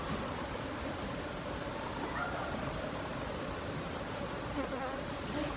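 A dense, steady buzzing of many honeybees swarming close by around a hive built in tyres, continuous and unbroken throughout.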